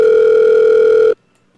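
A telephone ringback tone sounds loud and steady on a call, a single sustained tone that stops abruptly after about a second, leaving near silence.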